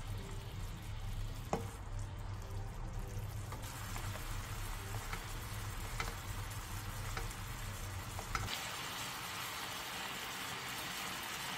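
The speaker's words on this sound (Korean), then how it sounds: "양념이 잘 배이도록 앞뒤로 한 번씩 뒤집어주고 국물을 끼얹어가며 3분에서 5분 정도" Soft tofu simmering in a bubbling braising sauce over medium-low heat: a soft, steady sizzle and bubbling with faint clicks of utensils, quiet and continuous.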